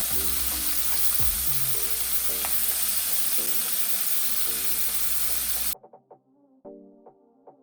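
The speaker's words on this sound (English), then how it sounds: "I'm just going to turn it really quickly so I can get a nice sear and let it cook on the other side" Jerk shrimp searing in a hot pan, loud steady sizzle with utensil clinks as pieces are turned, then quieter spattering and tapping after the sizzle suddenly drops away.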